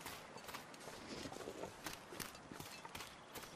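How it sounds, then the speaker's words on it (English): Footsteps in the survival video game The Long Dark, a steady run of soft crunching steps near a small farm by a mining road, spread over a constant outdoor wind-like hiss. "I could hear the footsteps."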